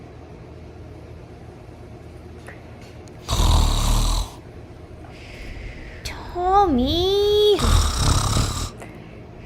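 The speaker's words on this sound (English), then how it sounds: "he's not sleeping in our bed with that snoring" Person snoring in deep sleep, with two loud broad rasping snores separated by quieter stretches, and a voice speaking briefly between them.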